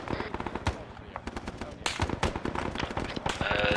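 Dense bursts of automatic and single-shot gunfire in the Vietnam-era military game Arma 3 crackle loudly and almost continuously, near and far shots overlapping, with a player's voice breaking in briefly.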